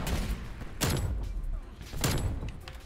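Two sharp sniper rifle shots from an online first-person shooter match, Black Ops Cold War, fire about a second apart, loud and close with a booming tail, over a steady game ambience.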